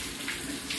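Rainwater from a downpour drains away from a flooded house, a steady close rushing trickle of flowing water with no voices.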